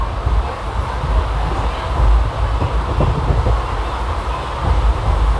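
Puducherry Express 16862 rolling along, a steady low rumble of carriages with faint rhythmic wheel clatter, heard from onboard without talk.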